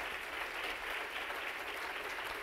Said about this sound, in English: Give a round of applause to this wonderful panel.